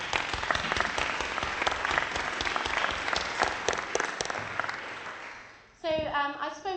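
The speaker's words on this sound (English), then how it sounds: "So we'll just give another round of applause to our presenters," Conference audience at a plenary session gives presenters a round of applause, loud dense clapping that gradually fades out before a voice begins speaking near the end.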